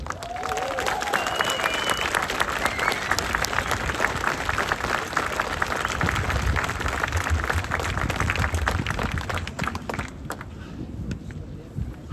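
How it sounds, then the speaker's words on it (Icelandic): Sustained crowd applause and clapping at an outdoor protest, loud and steady for about ten seconds with some cheering mixed in, then fading toward the end. "við skulum gefa honum hlýtt og kraftmikið klapp"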